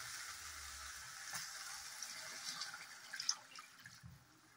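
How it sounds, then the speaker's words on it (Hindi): Water poured into a pan of fried onion and tomato masala sets off a quiet, steady sizzle with faint dripping and stirring, close and alone. "अब मैं इसमें पानी डाल देती हूँ।"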